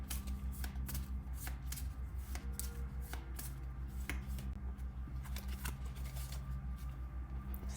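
Chakra oracle cards being shuffled by hand, a rapid run of crisp riffling flicks and soft card slaps repeating steadily and close up for several seconds, with no one speaking.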